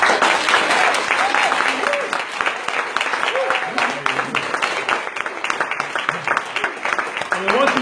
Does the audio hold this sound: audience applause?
yes